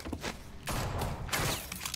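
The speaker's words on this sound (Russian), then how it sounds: "опять выстрелы" Gunfire in the video game The Walking Dead: Michonne, with two or three dense bursts of shots at moderate volume separated by brief lulls and no talking.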